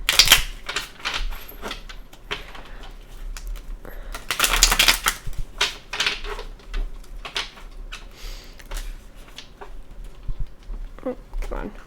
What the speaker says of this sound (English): So let's just shuffle all these again.